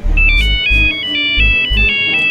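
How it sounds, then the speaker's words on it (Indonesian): A mobile phone ringtone plays loud and close in a cartoon, a repeating electronic melody with a pulsing thumping beat, several bars without any talking. "Gok, HP-mu bunyi tuh"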